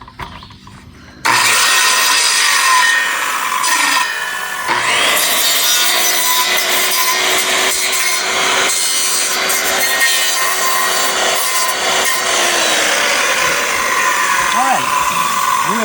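A wooden post on a home closet addition is cut with a power saw, which starts abruptly after a quiet moment and keeps up a loud, continuous rasping whine with slight pitch dips near the end.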